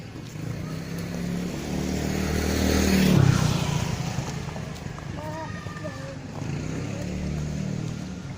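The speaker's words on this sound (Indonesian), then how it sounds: "Awas ada motor tuh." A motorcycle passing by on a street, its engine swelling louder as it approaches then fading away, with people talking nearby.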